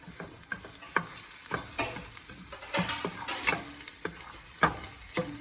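Onions sizzle in melting butter in a pan for risotto bianco, a steady frying hiss broken by repeated scraping and stirring strokes of a spoon, close up with no voices.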